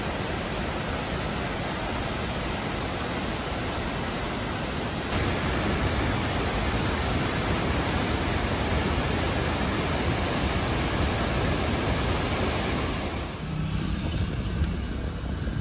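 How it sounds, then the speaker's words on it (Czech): Cascading waterfalls of Agua Azul on the Xanil river in Chiapas, Mexico, give a steady, dense roar of rushing water that fills the whole clip with no voices, easing slightly near the end. "Kaskádovité vodopády leží na řece Xanil v mexickém státě Chiapas"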